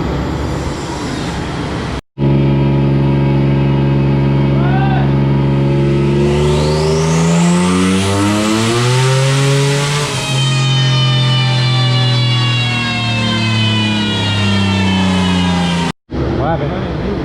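A boosted Nissan VQ35HR engine on dyno rollers revving hard and loud. The revs climb steadily through a long pull of around fourteen seconds, with rising harmonic whine, before abruptly cutting off.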